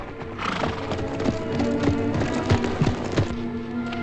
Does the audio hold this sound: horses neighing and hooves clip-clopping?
yes